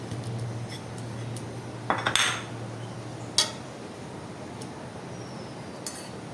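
Utensils clink and scrape against dishes while egg mash is mixed, with a few sharp clatters standing out over a quiet background.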